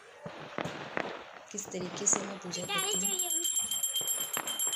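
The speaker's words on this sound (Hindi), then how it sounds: "पीछे आपको पटाखों की आवाज़ भी आ रही होगी।" Firecrackers burst outside during a Karva Chauth puja at night, a scattering of sharp distant pops under someone speaking, with a faint high ringing tone later on.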